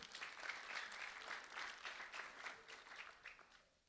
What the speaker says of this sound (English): a round of applause for LaTravian Pritchard